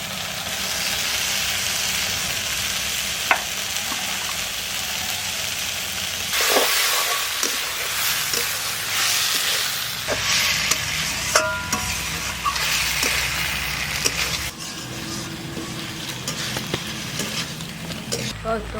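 Fried lobster prawns being stirred into a spicy masala in a village kitchen, a steady sizzle with scraping stir strokes and occasional clinks running continuously up close.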